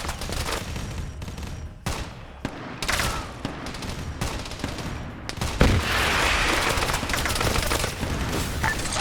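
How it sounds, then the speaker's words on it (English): Rapid bursts of gunfire and heavy rocket booms from a Warhammer 40K war game, with an RPG gunner firing from a rooftop; dense, loud and continuous, with short gaps between volleys. "You do have an RPG gunner on the roof firing rockets at me, so watch it."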